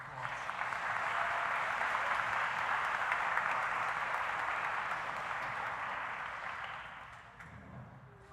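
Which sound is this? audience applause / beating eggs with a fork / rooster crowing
audience applause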